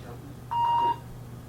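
A single clear electronic beep, steady and mid-pitched, lasting under half a second inside a fire museum, over a low background hum.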